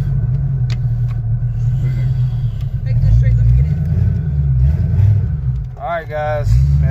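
A Mustang with a repaired transmission runs rough, its low, loud engine rumble steady and uneven with surges throughout, while people talk over it nearby.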